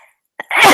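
A single sharp sneeze, preceded by a quick sharp inhale, is heard close to the microphone during a studio podcast conversation. It bursts loud and full, then trails off.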